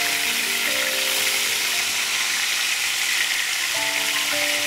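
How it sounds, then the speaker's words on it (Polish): Fish sizzles and crackles in hot oil, a loud continuous frying hiss with faint clinks from a pan or utensil. "Muszę przekrzykiwać odgłos smażącego się tłuszczu."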